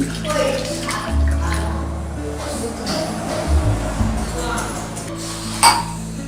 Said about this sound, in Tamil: ஒன்றரை டம்ளர் தண்ணி ஊற்றி வச்சு